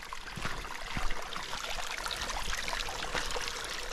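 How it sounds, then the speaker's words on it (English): A small clear mountain creek runs in the wilderness, a soft continuous trickle and babble of shallow flowing water with slight splashy variations, heard close up. "Just like a little creek."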